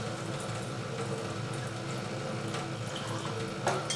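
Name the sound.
pouring water into ragda mixture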